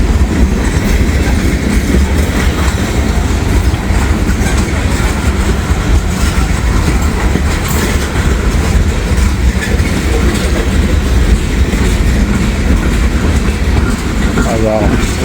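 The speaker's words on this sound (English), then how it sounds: "There's a nice little cut of boxcars back here." A freight train of boxcars, including an old boxcar, rolls past close by and slows down, with steady clickety-clack of wheels and a low rumble throughout, loud and continuous, with a voice speaking over it.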